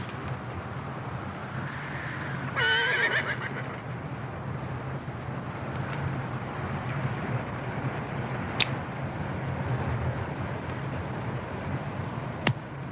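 A horse whinnies once with a brief, wavering cry in an outdoor scene from a 1971 Western, heard over steady wind-like rumble and background noise.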